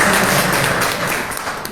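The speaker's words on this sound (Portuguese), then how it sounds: "Aplausos para a nossa professora." Class audience applauds their teacher with dense, loud clapping, a continuous broad wash of claps that eases slightly toward the end.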